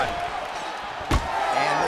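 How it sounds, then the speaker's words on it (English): A single dull, heavy thud as a knee strike lands to the body in UFC 5, over steady arena crowd noise and a commentator's voice. "Big knee lands to the body."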